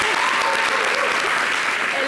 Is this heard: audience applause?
yes